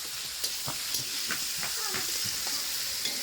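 Food stirred and fried in a pan, with a steady sizzle and several sharp scrapes and clinks of a utensil against the pan, close and fairly loud.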